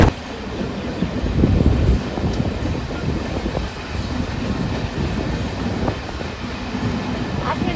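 A Sealdah–Dankuni local train runs near Dakshineswar station, its steady rumble and rattling wheels loud and close throughout, with no voices.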